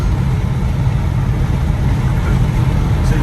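A strong car engine pulls hard while cruising a highway with an 85 mph limit, a loud, steady drone of engine and road noise filling the cabin without a break.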